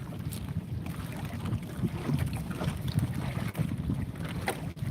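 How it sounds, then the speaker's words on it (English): A boat's motor runs steadily on the water during a night fishing trip in the Philippines, a continuous low engine drone mixed with wind buffeting the microphone, with no talking. "I hear him right there. The other boat running."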